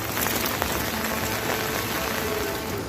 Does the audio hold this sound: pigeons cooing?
no